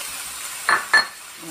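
Onion and shrimp tipped into a pan to sauté, heard as two quick, close sizzling bursts about a quarter second apart against a quiet background.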